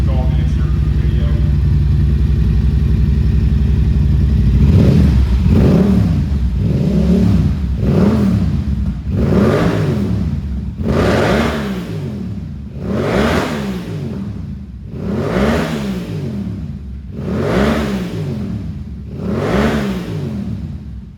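A Yamaha R7 motorcycle fitted with a Yoshimura full exhaust, no insert, sits inside a shop idling, then gets revved hard in a series of about eight sharp blips, loud and close.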